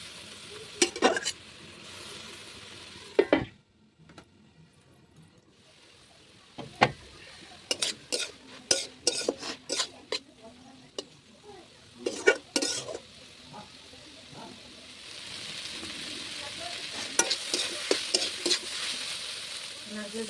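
Ridge gourd cooking in its own released water in a pan, a low hiss of simmering under frequent clinks and scrapes of a spoon stirring against the metal, with brief quiet gaps between bursts.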